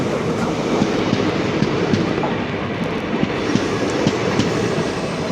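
The Ananthapuri Express rolls into Parassala station with a loud, continuous rumble close by and a steady clickety-clack of wheels over the rail joints.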